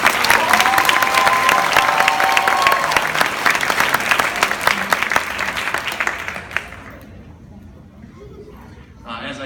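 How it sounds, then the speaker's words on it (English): Crowd applause at a DARE graduation ceremony, loud and continuous clapping with some cheering that fades out after about six seconds, leaving quiet room noise. "One more round of applause for you."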